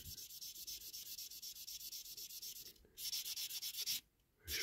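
Grit paper rubs steadily back and forth over a diecast Dinky Toys Triumph 1300 model car, a close, continuous sanding scratch with rhythmic strokes, pausing briefly twice before resuming.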